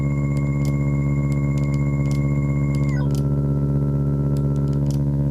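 Procedurally synthesized engine gear sound: a steady, layered mechanical drone with stacked tonal hum, faint ticking clicks on top, and a shift in pitch partway through, continuous and alone without talk.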